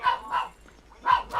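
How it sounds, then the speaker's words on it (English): Dogs barking close by indoors, three sharp barks in quick succession with a short pause before the last pair. "I'm sorry about the dogs, for the love of everything."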